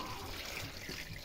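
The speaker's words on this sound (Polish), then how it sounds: "Starą wodę wylejemy" Old water from a sheep's container splashes and gushes continuously as it is poured out onto a field, a close, steady wet rush with no talking.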